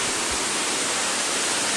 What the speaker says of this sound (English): here we are at the bottom of the falls